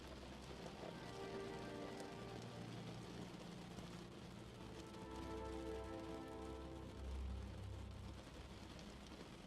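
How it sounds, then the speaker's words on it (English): Rain patters and taps on a window, a faint continuous spatter of drops with a soft low rumble underneath and no voices. "With the sound of each raindrop, your mind tunes out and into sleep."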